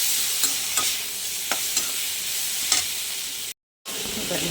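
Tomatoes sauté in a pan with a bright, constant sizzle, broken by a few sharp scrapes of a spoon stirring, followed by a brief moment of silence.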